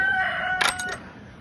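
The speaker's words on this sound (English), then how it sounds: "Some rude chickens, I tell you." Chickens in a backyard flock make a loud, nearby crow-like call with a brief burst of clucking squawks layered over it, then the sound fades out.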